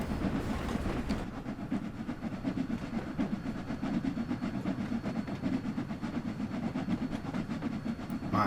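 Simulated train from Train Sim World 2 on the Liverpool Lime Street to London Euston line, rolling steadily on rails with a continuous low rumble and faint rhythmic clatter, close and even throughout, no voices.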